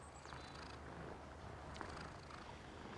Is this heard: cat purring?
yes